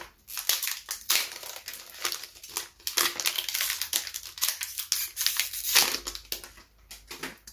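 Japanese Pokémon VMAX Climax booster packs are torn open and handled, giving close, busy crinkling and crumpling of foil wrappers with sharp rips, continuous and fairly loud, with no voice.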